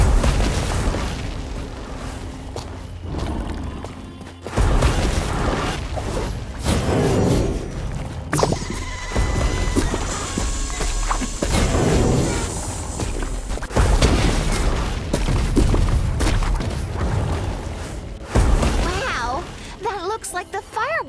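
Booming fireworks-like explosions in The Smurfs Mission Vileaf video game, a series of heavy thuds and bursts in rapid clusters with crackling tails, with character voices in between.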